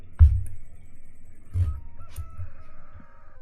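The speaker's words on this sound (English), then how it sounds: "Cock-a-doodle-doo" A rooster crows in a video game, a drawn-out tonal call that follows soft thuds and low rumbling. It is moderately loud, with no talking over it.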